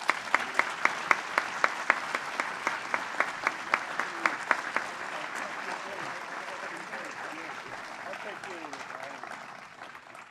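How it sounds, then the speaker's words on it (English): An audience applauds to welcome the president and founder of Silvercup Studios at a Bronx expansion announcement with the governor. Rhythmic unison claps open, then a broad, steady wash of clapping swells and fades out. "let's welcome and thank with a rousing round of applause, Stuart Sooner, president and founder of Silvercup Studios"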